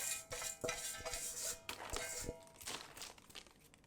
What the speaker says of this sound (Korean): 비닐봉지를 잘 닫은 후 뚜껑을 닫아줍니다.